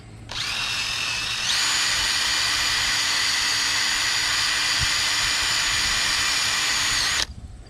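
A cordless drill spins a wire wheel in a loud, steady high-pitched whine that kicks up to a higher speed after a second, runs continuously, then cuts off abruptly.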